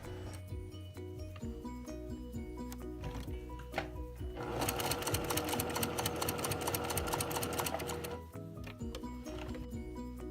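A sewing machine stitches darts into the front of a blouse made from Butterick pattern 6465, its rapid needle clatter swelling loud and steady in the middle of the stretch, with softer mechanical ticking and handling before and after.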